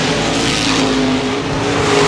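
Modified race cars at Baer Field Speedway roar loud and close in one continuous, dense engine drone, with rising and falling revving tones and no voices.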